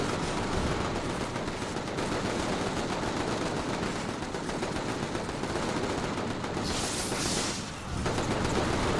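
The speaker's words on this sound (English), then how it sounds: "machine guns. Just machine guns everywhere." Sustained machine gun fire crackles without pause through a firefight in the open-world game inFAMOUS, dense and steady for the whole stretch with only a brief dip near the end.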